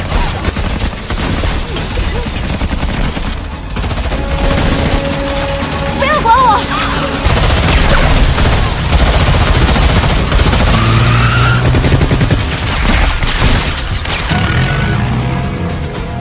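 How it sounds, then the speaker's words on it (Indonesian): A shootout from the action film Triple Threat, loud and dense throughout, with repeated bursts of gunfire mixed with engine roar, skidding and other chaotic action sounds. "kelompok Boyka menyerbu tempat itu dengan maksud untuk membunuh Susan, dan baku tembak pun tidak terelakkan lagi"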